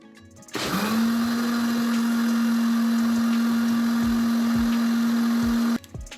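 Soaked finger millet (ragi) is ground with added water in an electric mixer grinder, whose motor spins up quickly into a loud, even whine that holds steadily for about five seconds before stopping abruptly.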